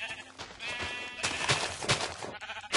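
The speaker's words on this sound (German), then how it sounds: "ich muss das Schaf mit Erde erschlagen." Sheep bleating in the video game Minecraft, a wavering, close, loud bleat that repeats over a busy mix of in-game sounds, with no talking.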